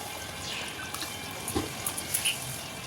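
Rose water pours into a cooking pan as a soft, brief trickle with a few light drips, close but faint.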